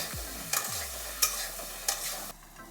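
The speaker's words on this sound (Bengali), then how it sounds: "যেহেতু বাকানাজ একটু ভালো করে ভেজে নিলেই ভালো হয়, তো এগুলো একটু ভেজে নামিয়ে নেব।" Bakanaj fish and potato pieces fry in a kadai, a soft sizzle punctuated by three or four distinct scrapes of a spatula stirring, until the sizzle drops away near the end.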